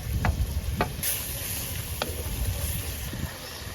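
Ginger garlic paste sizzles in a frying pan with onions and tomatoes, a steady close hiss of frying broken by a few soft stirring knocks.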